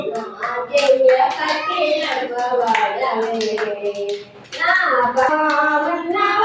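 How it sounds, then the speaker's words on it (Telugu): Rhythmic hand clapping keeps time with a devotional Jesus song, steady claps running under loud singing voices, close and continuous apart from a brief dip near the middle. "చప్పట్లు చప్పట్లు"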